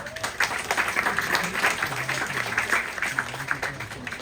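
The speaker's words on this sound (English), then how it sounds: "give her a round of applause" An outdoor crowd at a cattle dog sheep-herding show at a koala sanctuary in Brisbane, Australia, gives a moderate round of applause: steady clapping from many hands, with a faint low tone running beneath.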